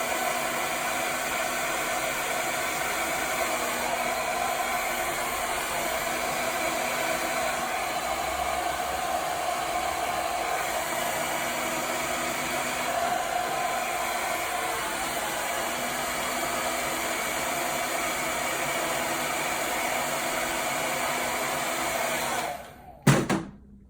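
A hair dryer blows steadily and closely while hair is being blow-dried and straightened, a constant whooshing motor roar that runs unbroken for over twenty seconds before being switched off, followed by a brief clunk.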